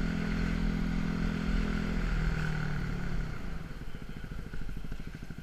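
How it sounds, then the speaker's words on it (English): A Yamaha WR250X supermoto motorcycle engine under way while riding, a loud steady drone that drops in pitch as it eases off into a lower, pulsing idle-like rumble, with wind noise throughout. "I feel like I'm really just powering it out hard"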